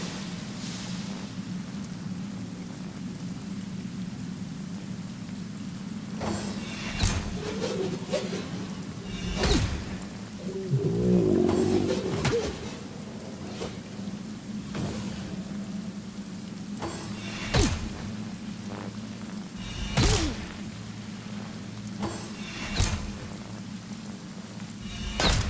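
Rain spell cast in the fantasy RPG Divinity: Original Sin, a steady hiss of falling rain lasting throughout with swishing bursts and sharp impact hits scattered over it, no talk.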